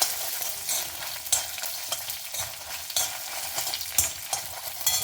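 Mustard seeds and urad dal spluttering in hot oil for brinjal palya, a dense, loud, steady crackle of tiny pops with sharper bursts throughout and no voices.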